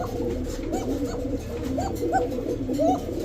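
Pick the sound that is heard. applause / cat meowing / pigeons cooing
pigeons cooing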